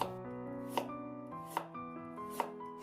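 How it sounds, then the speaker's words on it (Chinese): A knife slices half a carrot into thin slices on a cutting board, three crisp, evenly spaced chops over a quiet background with soft music. "先给它切成薄片"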